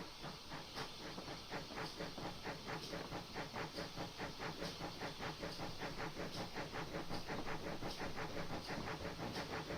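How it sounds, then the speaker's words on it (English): A train arriving on the Falmouth Branch line rolls steadily past close by, wheels clicking in a rapid regular rhythm over rail joints, with a constant hiss of steam or brakes beneath. "Another train coming in there."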